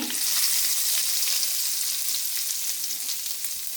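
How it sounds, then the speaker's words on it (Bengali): Hot tempering (tadka) poured over a food dish sizzles loudly and continuously, a bright hissing crackle that fades slightly toward the end. "এবার এই তরকাটা এর উপরে ঢেলে দেব"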